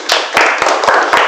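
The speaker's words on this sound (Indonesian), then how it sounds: "tepuk tangan dulu untuk Abraham" A classroom breaks into applause for a student, a loud burst of rhythmic hand claps, several in quick succession, close by.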